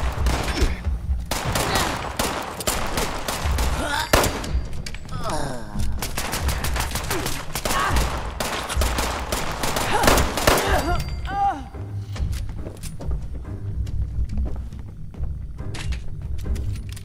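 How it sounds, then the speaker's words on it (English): Rapid gunfire and fusillades from Fallout 76 multiplayer combat, dense bursts of shots hitting near the player, with someone talking over the shooting throughout. "Who the hell is shooting me?"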